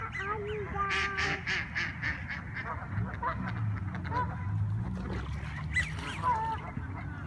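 Muscovy ducks calling outdoors, a string of short nasal honks and quacks up close, mixed with people talking nearby.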